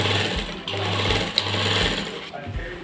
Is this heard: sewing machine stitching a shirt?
yes